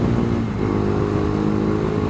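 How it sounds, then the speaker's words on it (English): Motor vehicle engine under steady hard acceleration while entering a freeway, a loud continuous close drone with layered harmonics and rushing wind, no talk. "I'm going to enter the freeway at speed for once."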